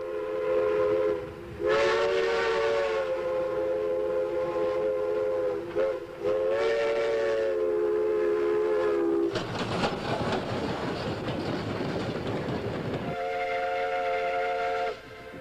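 A Blue Mountain and Reading Railroad train passes with long, loud whistle blasts, a rumbling stretch of rolling wheels between them, then another whistle near the end.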